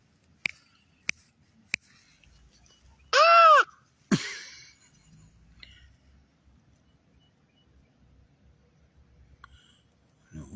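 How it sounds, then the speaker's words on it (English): A crow gives a loud, harsh caw at close range, followed by a fainter call, with a few sharp clicks before it and quiet background around. "That crow was sounding off."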